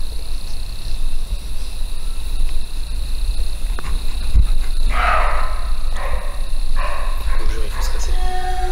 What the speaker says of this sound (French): Ça c'est un chevreuil.